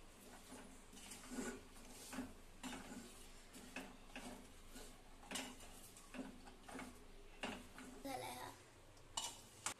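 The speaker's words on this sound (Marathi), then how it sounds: "आता आपण गॅस बंद करून घेऊया आणि हे थंड होऊस्तर हलवूया." Shankarpale sweets are stirred in a pan with the gas turned off, making repeated soft scrapes and clatters in an uneven rhythm at low volume, with a voice faintly in the background.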